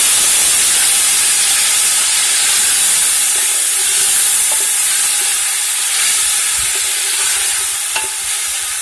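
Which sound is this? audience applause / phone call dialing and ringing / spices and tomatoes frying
spices and tomatoes frying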